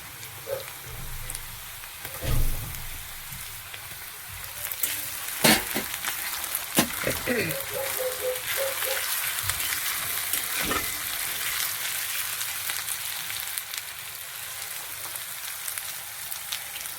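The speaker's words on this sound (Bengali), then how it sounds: "আদা রসুন বেটে রেখেছি, এটা দিয়ে দিচ্ছি।" Browned onions sizzle steadily in a pan as ginger-garlic paste goes in, with a continuous close frying hiss punctuated by scattered stirring clicks and scrapes.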